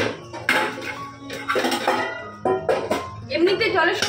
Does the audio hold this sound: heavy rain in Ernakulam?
no